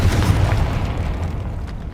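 A Confringo blasting spell goes off in the Hogwarts Legacy video game on PS5, a single loud, deep boom with a rumbling burst that fades over about two seconds.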